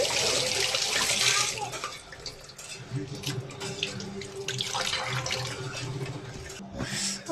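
Tap water runs steadily into a sink during hand washing in a home, a continuous close rushing splash with some shifting as hands move under the stream, and a voice speaks faintly beneath it.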